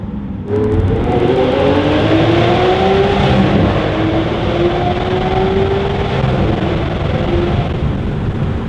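Lamborghini Aventador SV supercar with all-wheel drive accelerating hard from inside the cabin, a loud continuous engine roar climbing steadily in pitch for several seconds with no talk over it.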